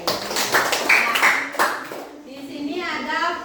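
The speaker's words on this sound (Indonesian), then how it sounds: "tepuk tangan untuk Gayatri" Pupils clap for a classmate in an Indonesian school classroom, a short burst of nearby hand clapping that fades out, followed by someone speaking.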